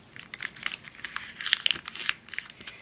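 Sheet of paper being folded and creased into a seedling pot, crinkling and rustling up close in quick, uneven bursts with a few sharper crackles.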